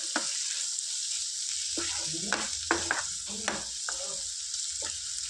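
A spoon stirs chili powder into a potato and tomato curry frying in a pan, with a steady loud sizzle and several scraping strokes against the pan, close by.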